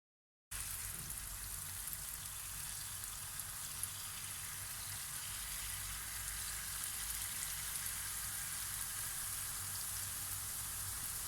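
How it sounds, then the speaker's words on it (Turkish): Steady, dense sizzling of shaped dough frying in hot oil for a crispy Turkish dessert, a constant crackling hiss that fills the whole stretch without pause. "Şu şekilde şekiller vererek kızartacağız."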